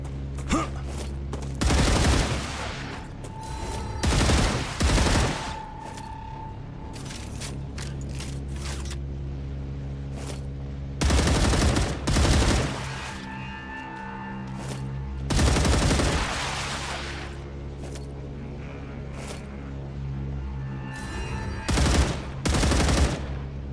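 Gunfire from the game StarRupture comes in several loud, sustained automatic bursts of a second or two each, separated by quieter stretches with a steady tone underneath and a faint voice.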